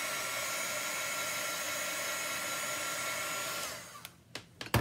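A hair dryer blows steadily over a chalk transfer, a loud, even rushing whoosh for most of the time, then cuts off, leaving a few handling knocks.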